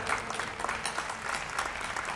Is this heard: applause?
yes